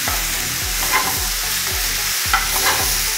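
Okra bhaji with tomatoes sizzles loudly in a pan, broken by a steady run of repeated stirring strokes. Nobody speaks.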